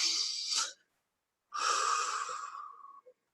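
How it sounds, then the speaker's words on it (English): A slow, deep breath drawn in and let out, close and fairly loud: a short inhale, a pause of about a second, then a longer airy exhale that trails off, with a small click at the end. "Now I want you to take another deep breath."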